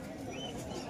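Pigeons at a busy bird market coo softly amid dense crowd chatter, the calls faint and partly buried under nearby voices.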